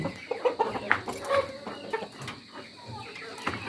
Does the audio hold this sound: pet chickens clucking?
yes